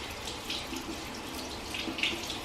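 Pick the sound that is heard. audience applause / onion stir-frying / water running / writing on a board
water running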